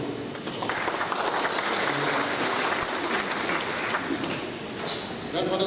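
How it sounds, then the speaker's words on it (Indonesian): Steady applause from the audience at a formal city council plenary assembly, a sustained broad clatter of clapping that holds for several seconds at moderate volume with a slight dip near the end. "Kita berikan aplaus."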